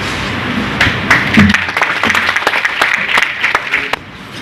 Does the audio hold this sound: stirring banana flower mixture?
no